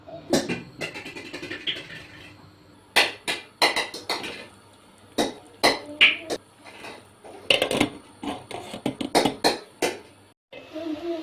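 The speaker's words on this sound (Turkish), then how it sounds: "Tavuk pişene kadar mantarımızı doğrayalım. Çok küçük doğramıyoruz böyle ay şeklinde." A knife chops mushrooms into fairly large half-moon slices on a cutting board for creamy mushroom chicken sauté, with close, irregular clusters of sharp taps and brief pauses between bursts, no talking.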